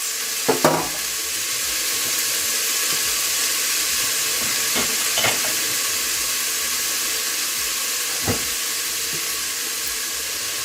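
Food sizzles fiercely in an overly hot pan with tomatoes and thyme, a constant loud hiss broken by a few sharp crackles and pops, with no talk.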